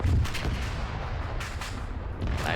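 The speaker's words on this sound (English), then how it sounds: "I just heard something explode" Explosions from a combat game rumble and crack in the distance during a Russian invasion battle around Zelenogorsk, with several booming hits and a continuous low roar between them.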